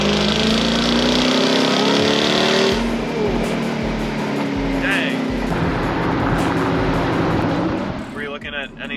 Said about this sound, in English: The supercharger whine and just the raw power makes one of the best sound ever.